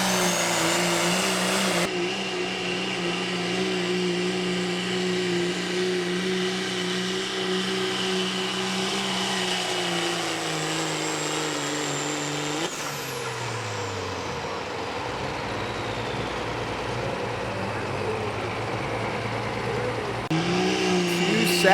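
A short-bed single-cab homebrewed performance pickup truck drags a pulling sled at a 4x4 truck pull. Its engine drones loud and steady, pitch sagging midway as it bogs down under load, then roars back up near the end.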